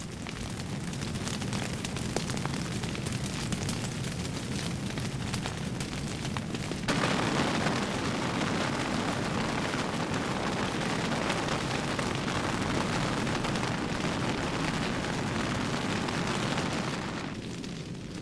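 A lodgepole pine forest fire roars steadily, a dense rumbling, crackling blaze as trees burst into flame, loud and continuous with a surge in intensity partway through and no talking.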